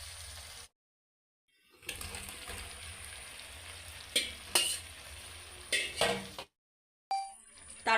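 Fried jackfruit is stirred into sizzling masala in a pan, with soft frying hiss, scraping strokes and occasional clinks of the spoon against the pan, broken by a couple of brief silent gaps.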